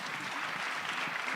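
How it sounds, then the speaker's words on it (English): Brief burst of audience applause for panelists at a conference forum, a steady wash of clapping from a seated crowd, moderately loud and continuous. "Give our panelists a round of applause."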